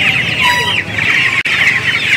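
Chickens, including silkies, cluck and squawk busily in a dense, close cluster at a Sunday poultry market in Nellore, a continuous noisy chorus of many birds with a brief break near the end.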